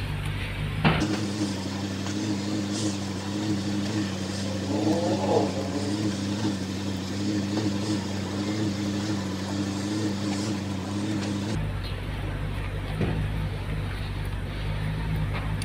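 A BMW 550 engine idles steadily nearby while the steering is turned from lock to lock, its hum rising in a brief strain midway before the note shifts near the end.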